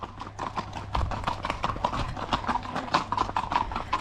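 Horse hooves clip-clop in a steady rhythm along a trail in the rain, close and fairly loud, with a faint voice now and then in the background.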